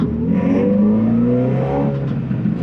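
A Renault Clio 182 hatchback engine with a custom air intake rumbles and revs steadily up close, its throaty intake note rising and falling with no talking.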